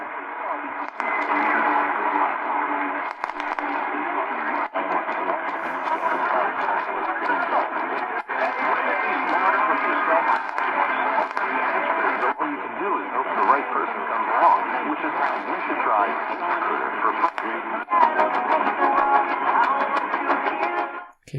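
Country music plays through the small speaker of a Sangean SR-35 AM FM portable radio, sounding thin and band-limited with a steady level and slight crackle for the full stretch.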